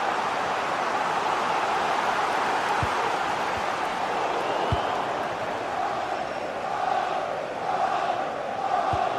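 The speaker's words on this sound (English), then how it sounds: "Well, just listen to the crowd." A stadium crowd in a football video game roars as a steady, dense wash of noise with a rising swell of cheering near the end, occasional thumps breaking through.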